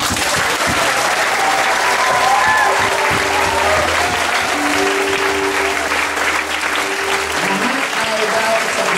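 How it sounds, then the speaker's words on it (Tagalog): A church congregation claps loudly and continuously, a thick, sustained roar of applause with faint talk and tonal sounds underneath, holding steady to the end. "umpisahan na natin ulit pumalakpak ng matinding palakpak"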